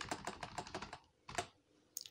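Keys clatter on a computer keyboard as a password is typed, a quick run of about eight close, crisp taps, then a short pause and a few more keystrokes.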